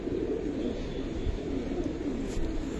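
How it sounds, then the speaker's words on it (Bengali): A male Giribaz pigeon coos softly in low, rolling tones against a constant rush of wind near the cage, with no talking. "দেখেন ভাই, এটা একটা নর কবুতর"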